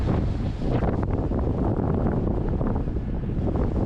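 Heavy wind buffets the microphone while cycling through open Pennine countryside near Sedbergh, a loud, constant roaring rush with no let-up and no other sounds.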